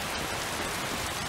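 Steady rain hisses down across an outdoor game landscape near a river, a dense broadband wash with no voices, loud and continuous throughout.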